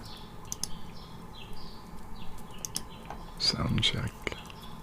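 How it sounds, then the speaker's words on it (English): Birds chirp outdoors in short, faint, repeated tweets in the background, while a soft whisper and light tapping sounds come in close by toward the end. "Birds are still relatively loud."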